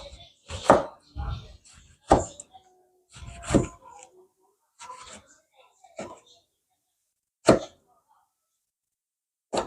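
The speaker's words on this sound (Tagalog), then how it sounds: "Slice na natin. Tapos sa kamatis natin." Knife chops through tomatoes for paksiw na isda: a handful of sharp, separate cuts spaced unevenly, close and fairly crisp, with short pauses between strokes and no one talking.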